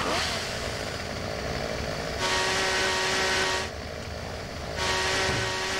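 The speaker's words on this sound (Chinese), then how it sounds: "电锯行不行啊？ 完全不能锯树啊！" A chainsaw in Silent Hill 4, a loud continuous buzzing engine drone that revs up in two surges, dipping briefly between them.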